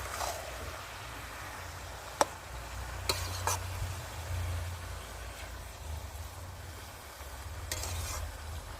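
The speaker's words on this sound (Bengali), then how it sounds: "দিয়ে দেবো ভেজে রাখা কুচো চিংড়ি, দিয়ে একটু ভালো করে নেড়ে দেব।" Fried small shrimp are stirred into a simmering bottle gourd curry in a pan, with a steady low sizzle throughout and a few sharp spoon knocks against the pan.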